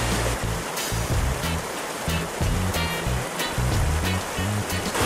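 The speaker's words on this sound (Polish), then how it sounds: "już słyszę rzekę, której wcześniej nigdy nie słyszałem." A river flowing near a waterfall on a mountain hike, a steady loud broadband rush of water that stays close and constant throughout.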